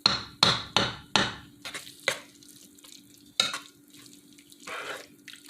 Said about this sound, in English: So when you're adding your water in, just eyeball it